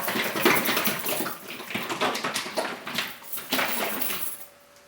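Homemade fake blood mixture with red food colouring sloshing inside a shaken container, irregular wet splashing bursts close up, moderately loud, no talking.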